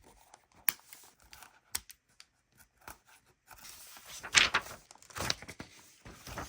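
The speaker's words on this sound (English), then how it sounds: "I just go to the center or try to find a book that's got strings, and you just cut the strings." Scissors snip through the binding strings of a secondhand booklet, a few sharp separate cuts among quiet handling and rustling of paper, close and fairly soft.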